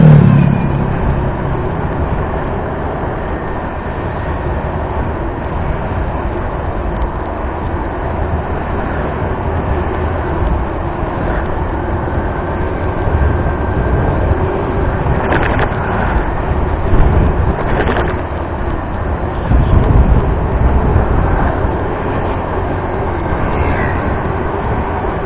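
Traffic on the Kaleng Anyar main road in Tangerang: a continuous roar of passing cars and engines with heavy wind buffeting, and a few louder vehicles surging by close at hand.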